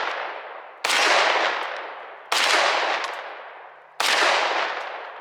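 Gunshots at a shooting range striking a steel target, three loud, sharp reports about 1.5 seconds apart, each with a long ringing decay, heard alone.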